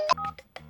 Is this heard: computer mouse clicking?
no